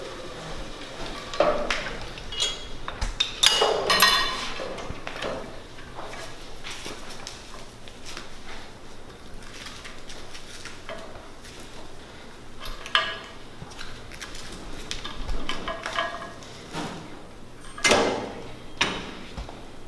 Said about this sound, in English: this is a cable machine glute kickback